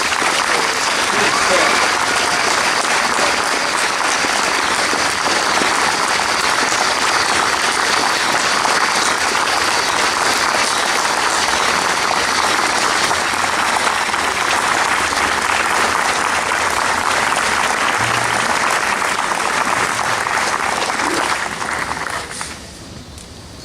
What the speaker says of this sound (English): Would you be kind enough to give this wonderful ensemble a recognition, a round of applause?